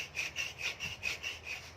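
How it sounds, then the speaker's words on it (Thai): A hand saw cuts through an aluminium motorcycle rear footrest in steady back-and-forth strokes, about seven even rasping passes in under two seconds, close and moderately quiet, with no talk. "สมัยก่อนเขาก็ เลื่อยกันอย่างนี้แหละนะครับ"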